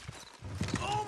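Horses' hooves clop on the ground in the Western video game Red Dead Redemption 2 as a team pulls a load, a few soft, irregular thuds mixed under a voice and other game sounds.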